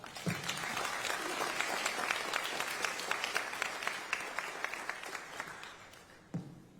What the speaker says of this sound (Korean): 우리 모두 대통령께 감사와 격려의 큰 박수를 한번 하면 어떻겠습니까?